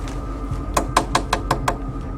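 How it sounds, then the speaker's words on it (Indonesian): Six sharp knocks on a door in a quick, even series, fairly close over a quiet room background, with no talking. "Udah ketok-ketok aja deh."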